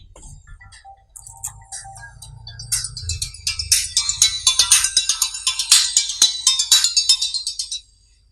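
A mobile phone ringtone goes off during a religious talk about the rules of sacrifice. It plays a bright, tinkling, rhythmic electronic melody that grows louder over several seconds and then stops abruptly, with no speech over it.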